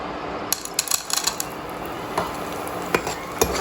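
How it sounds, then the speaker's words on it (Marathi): A whole lump of asafoetida fried in oil for Kolhapuri chutney, with a continuous close sizzle and sharp metallic clicks and taps of a utensil scattered through it. "तर आता आपण खडा हिंग तळून घेऊयात"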